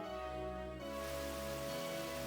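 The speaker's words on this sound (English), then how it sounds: "it's heavily raining" Steady hiss of heavy rain in the video game Pokemon Black, layered with tonal game music, quiet and continuous, swelling slightly partway through.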